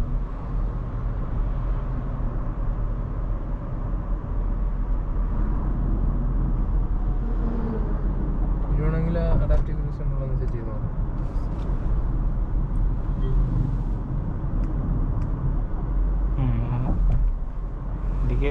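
A 2023 Honda City ZX with a 1.5L i-VTEC 119 bhp engine and CVT gearbox drives along, giving a steady, droning engine and road hum inside the cabin while a person talks over it.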